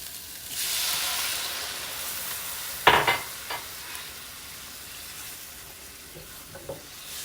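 Broth poured into a hot pan of beef stroganoff: a quiet background hiss, then a sudden loud burst of sizzle and steam that quickly fades to a softer bubbling hiss.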